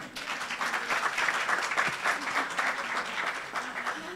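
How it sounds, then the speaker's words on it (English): An audience claps in a sustained round of applause, dense and steady throughout, heard from within the room. "Clap hands for them again."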